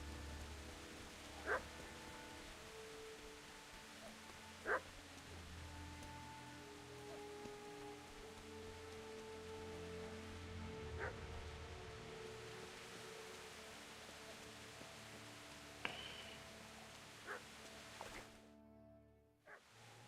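A dog in Kingdom Come: Deliverance barks in about six short, sharp bursts spread irregularly over a steady hushed ambient background, moderately distant and fairly faint, with no talking.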